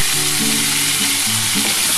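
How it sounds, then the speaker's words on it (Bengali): Pointed gourd (potol) slices frying in oil in a pan, a loud continuous sizzle with light stirring and shifting of the pieces, no voices. "আমি পটলটা লাল লাল করে ভেজে তুলে নেবো"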